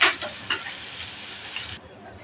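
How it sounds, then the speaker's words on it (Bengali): Finely chopped onions sizzle in hot mustard oil in a pan, a steady close frying hiss with a few brief stirring scrapes. "পেঁয়াজটা ভালোভাবে ভাজে নেব।"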